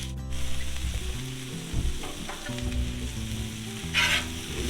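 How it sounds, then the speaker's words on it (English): Onions and meat for a Philly cheesesteak fry on a Blackstone griddle with oil, giving a steady, close sizzle with occasional scraping and stirring, over a faint musical bed and with no talking. "we're going to go ahead and throw the meat to it"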